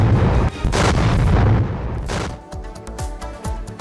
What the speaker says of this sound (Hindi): लगातार बमबारी जारी है